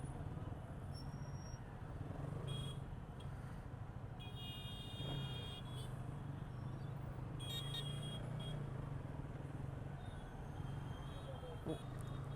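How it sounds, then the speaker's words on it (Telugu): Steady city road traffic in Narasaraopet, a dense rumble of engines with a few short car horn toots rising above it, while people talk throughout. "ఇంత ట్రాఫిక్ ఉంటుంది నర్సరావుపేటలో."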